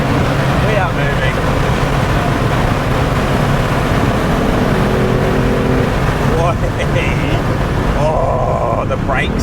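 A BMW F80 M3 accelerating hard, its engine note rising and dropping through gear shifts, loud and close from inside the car with a steady road roar, while a voice talks over it.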